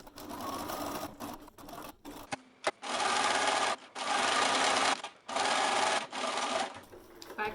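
Close, loud bursts from a sewing machine running a regular straight stitch on tote bag fins, several runs of one to two seconds each with short pauses and backstitching between them.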